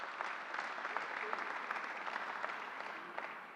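Applause for a county executive at a state government press event, soft and distant with a steady wash of scattered claps from a modest group, holding at an even level throughout.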